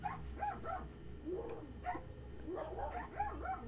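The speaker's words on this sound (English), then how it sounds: "I hate my neighbor's dogs." Several neighbor's dogs bark and yip repeatedly in overlapping bursts from a short distance, with whimpering yelps between the louder barks and no talking over them.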